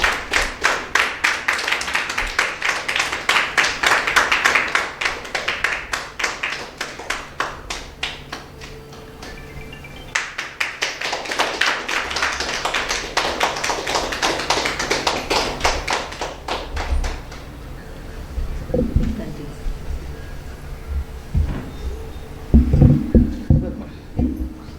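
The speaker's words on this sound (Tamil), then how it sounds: "கொஞ்சம் கைகளை தட்டி கொஞ்சம் ஆரவாரம் பண்ணுங்க." An audience claps hands at an astrology talk in two long rounds of dense, rhythmic clapping, then fades into scattered claps and quieter sounds.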